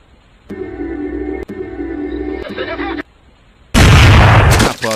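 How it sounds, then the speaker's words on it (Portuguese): A single loud gunshot in an animated Woody Woodpecker analog horror story, a sharp broadband blast near the end that cuts off abruptly, following a stretch of steady droning tone with a brief click. "Após o disparo, o Pica-Pau é atingido em cheio, mas não cai"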